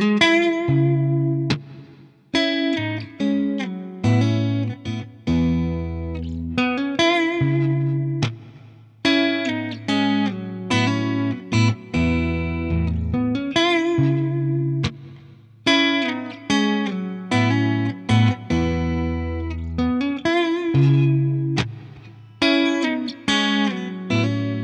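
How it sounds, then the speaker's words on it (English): Clean electric guitar with a touch of reverb, a Fender Ed O'Brien Stratocaster through a Yamaha THR-10X amp, strummed chords and picked single notes ringing out in loose phrases, played alone. "starting off on the clean channel, bit of reverb"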